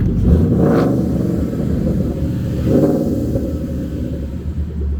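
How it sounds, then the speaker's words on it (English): A 2011 Ford Mustang GT Premium V8 with Roush mufflers rumbles at idle with a deep exhaust note, revving up twice in throaty bursts before settling. It is loud and close, with no voices. "hear that exhaust."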